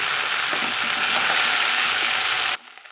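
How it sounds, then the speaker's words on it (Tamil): Mudakathan greens sautéing in a hot pan give a loud, steady sizzle with faint scraping, cutting off abruptly near the end to near silence. "இப்போ இந்த கீரையும் சேர்த்து நம்ம வதக்கலாங்க"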